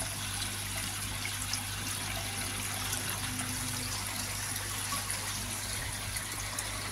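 A koi pond skimmer running with water flowing through it, a steady close trickle and gush over a low mechanical hum, continuous with no voices.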